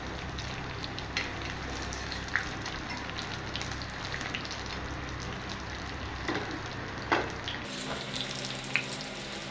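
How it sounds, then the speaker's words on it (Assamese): Chicken pieces frying in hot oil in a pan make a steady close sizzle throughout, with occasional pops and stirring clinks, and the tone shifts near the end. "এয়া মোৰ মাংস লাহে লাহে ৰঙচুৱা হ'বলৈ আৰম্ভ কৰিছে।"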